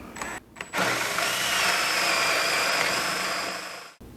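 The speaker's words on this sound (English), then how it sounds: "We'll get those marked and we're ready to drill." A power drill with a 35mm bit whirs up to speed, boring a hinge hole steadily for about three seconds with a harsh, grinding roar before cutting off abruptly.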